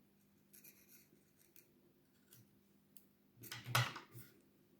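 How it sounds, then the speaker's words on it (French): Scissors cutting crochet yarn close by: a few faint snips and rustles, then one louder crisp snip near the end, quiet between. "Et après, vous pouvez couper votre fil."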